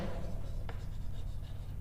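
A pen or marker writes out a chemistry question during a lecture on the mole concept, with soft continuous scratching strokes close to the microphone and a low steady hum beneath.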